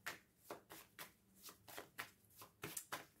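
Tarot cards being shuffled by hand, a quiet, close riffling in a steady rhythm of about eight crisp bursts, alone with no talking.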